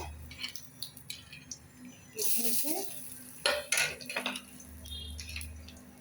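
Fennel seeds crackling in a little oil in a pan for tomato chutney, bursts of sizzle with metal utensil clinks and scrapes, loudest in the middle, quieter at the edges.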